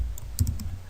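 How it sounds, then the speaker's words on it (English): Brief burst of typing on a computer keyboard, a few quick close clicks of keys in a quiet room. "Type your email address"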